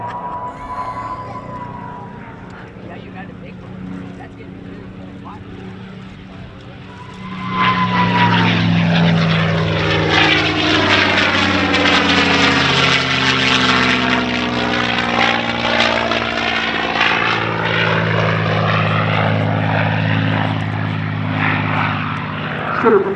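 A P-51 Mustang propeller fighter performs aerobatics at an air show: a distant drone builds into a loud, sweeping engine roar at about seven seconds as the plane passes close, then holds strong and slowly fades.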